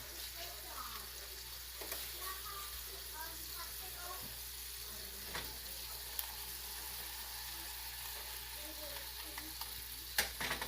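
Butter sizzling and melting in a hot pan for a porterhouse dinner with stuffed mushrooms, a steady soft crackle with occasional pops and clinks, while a person talks over it.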